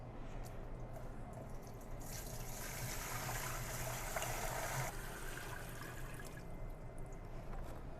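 Water hisses and trickles as it fills a Harbor Freight battery backpack sprayer, a quiet steady pour that swells louder for a few seconds in the middle before easing back.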